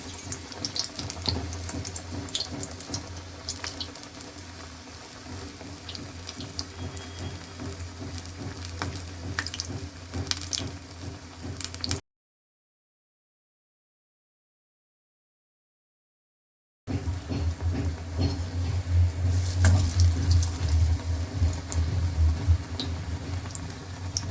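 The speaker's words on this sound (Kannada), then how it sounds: "ಈ ಥರ ಹಿಟ್ಟು ಹಚ್ಕೊಂಡು ಎಣ್ಣೆ ಒಳಗೆ ಹಾಕ್ಬೇಕು ನೋಡಿರಿ" Battered palak (spinach leaf) bajji fry in hot oil with a steady bubbling sizzle, loud and close, broken by a silent gap midway before the frying resumes.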